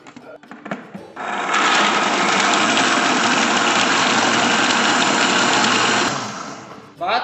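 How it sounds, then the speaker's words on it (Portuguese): A blender whirs loudly and steadily for about five seconds, blending milk, half a box of condensed milk and 100 grams of peanuts, starting abruptly and cutting off cleanly. "nós vamos bater o leite juntamente com a meia caixinha de leite condensado e as 100 gramas de amendoim"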